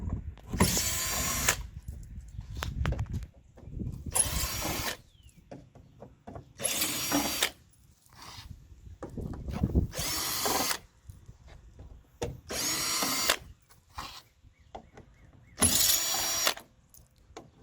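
Power driver with a torque bit backing out screws from a truck tailgate panel, six short whirring bursts separated by quiet gaps and small handling noises, close and moderately loud.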